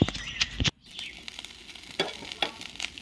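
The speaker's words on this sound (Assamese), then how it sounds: "মাছৰ পেটু ভাজি আছোঁ ভাতৰ লগত।" Fish belly pieces sizzle and crackle in hot oil, a dense bright frying hiss with a brief break, then continuing spits and pops, close and without talk.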